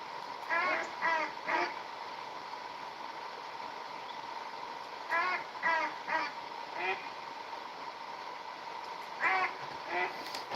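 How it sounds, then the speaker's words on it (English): Ducks quack in short clustered bursts at a moderate distance, set against a low steady background hum, with quiet gaps between the bursts. "I'm gonna get some ducks to land down here."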